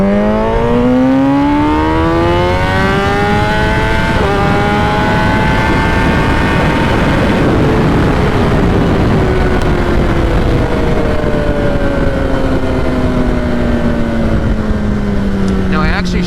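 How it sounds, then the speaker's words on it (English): A 2021 Kawasaki ZX-10 sport bike with a flashed ECU revs hard and close, its whine climbing through several pulls with brief dips at the shifts, then easing down at high RPM, loud and unbroken throughout. "Now I actually shifted because I thought I hit the limiter, but it was just the bike laying over at a higher RPM."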